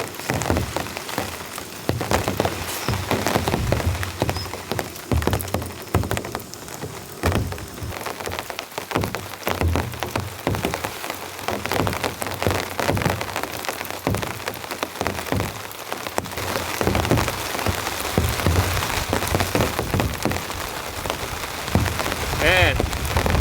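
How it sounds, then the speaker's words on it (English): Heavy rain pounds steadily on a camping tent during a storm with strong winds, a dense continuous patter of drops close to the fabric throughout. "the rain's coming in."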